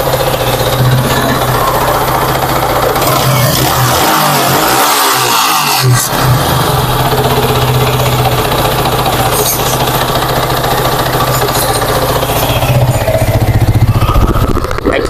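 A customer's dirty motorcycle engine revs loudly and continuously up close, a harsh throbbing roar with a brief dip partway through before it builds again.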